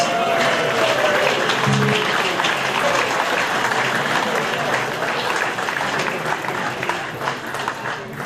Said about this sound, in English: I think we need to give Adam Spencer a huge round of applause.